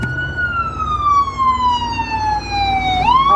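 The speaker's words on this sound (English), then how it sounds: "Here we go with the ambulances and things." A loud siren holds a long, slowly falling tone, then swoops back up, close by and alone over a faint background rumble.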